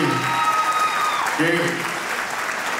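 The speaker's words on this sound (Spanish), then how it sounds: "Un aplauso para Mía" Guests applauding at a quinceañera party, a sustained round of clapping from the crowd with a host's voice and a brief sung or whistled tone riding over it.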